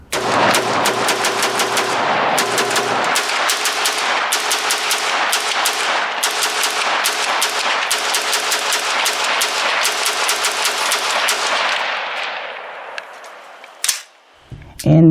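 Rapid automatic fire from a Colt AR15 A4 rifle set up as a USMC M16A4 clone, loud and close, a continuous rattling string of shots lasting about twelve seconds, then a few isolated bangs as it tails off.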